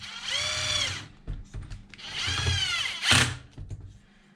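A power drill on its lowest setting drives screws into the plastic wheelie bar of a Traxxas Xmaxx RC truck, two sustained whirring bursts with a short pause between and a brief third spurt near, close up and alone.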